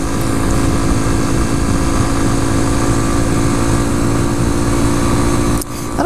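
A 2014 Honda Grom, a small four-speed motorcycle, is run at wide-open throttle, giving a sustained buzzing engine drone mixed with rushing wind that stays loud and constant before dipping briefly near the end.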